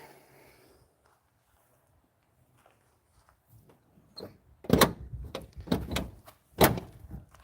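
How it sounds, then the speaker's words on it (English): The door of a 40-year-old van is shut, a run of loud clunks and rattles after a quiet start, with several sharp knocks close by. "Guess I gotta close the door a little easier. It's a 40-year-old van."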